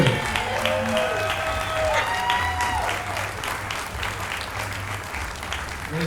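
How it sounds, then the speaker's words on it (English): A crowd applauds steadily after a River Spirit play at Chasco, dense clapping holding at an even level throughout with a few faint tonal sounds mixed in. "Big round of applause for Judy Myers, the River Spirit."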